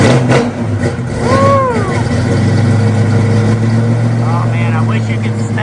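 1969 Camaro SS V8 idling with a steady, loud low rumble throughout, with brief voices and other sounds heard over it.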